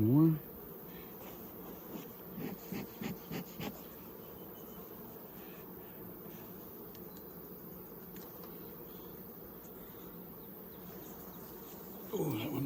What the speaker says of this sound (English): Oh yeah, look at all those bees.